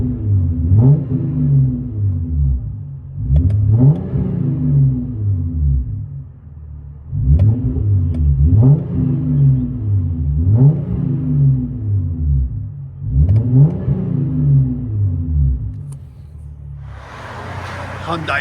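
A 2015 Hyundai Genesis Coupe with a 3.8-liter V6 and muffler delete with quad tips revs repeatedly in five or six rising and falling bursts, a deep throaty exhaust close by with an idle rumble between blips.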